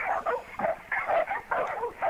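A dog makes a string of close, rhythmic yelping and whimpering barks, about six short bursts spaced evenly with brief gaps between them.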